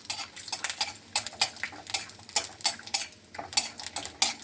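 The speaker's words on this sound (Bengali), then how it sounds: "এখন কড়াতে একটা তেল বসিয়ে দিয়েছি, বাদামটা দিয়ে দিচ্ছি। প্রথমে আমি বাদামটা একটু লাল লাল করে ভেজে নেব।" Peanuts fry in oil in a wok while being stirred, heard as a rapid, rhythmic series of metallic scrapes and rattling clinks of a spatula against the pan, close and fairly sharp, with no speech.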